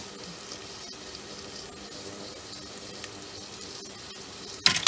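Onion and garlic fry on an induction burner set to 800 watts, giving a steady, even sizzle with soft crackles and a brief louder clatter at the very end.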